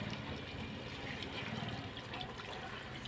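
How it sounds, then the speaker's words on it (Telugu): Water is poured from a glass into a cooking pan, a faint, continuous watery rush lasting a few seconds with no clear break. "ఇప్పుడు అడిగంటేస్తుంది కాబట్టి గ్లాసులు వాటర్ వేస్తానండి"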